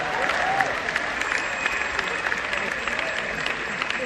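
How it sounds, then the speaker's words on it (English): An audience at a motivational talk applauds steadily, with dense, sustained clapping and some crowd murmur throughout. "They're clapping."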